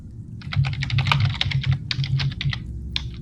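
Someone types furiously on a computer keyboard during a tabletop role-playing session, a loud, close, dense flurry of rapid key clicks with brief pauses and no speech.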